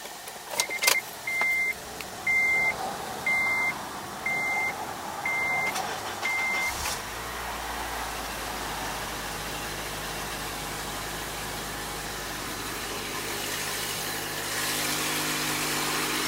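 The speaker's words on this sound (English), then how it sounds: "Now watch this cold start." A Stihl MS170 chainsaw with an exhaust leak is cold-started after sitting unused since last season. A run of short electronic beeps comes first, then the small engine settles into a steady, fairly loud idle drone.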